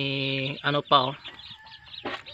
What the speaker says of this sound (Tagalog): may maliliit pa na mga sisiw kasama yung inahin